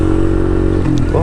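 A Suzuki RV125 motorcycle engine labours up a steep road, a loud, close, steady low thrum that shifts pitch near the end as the gear changes.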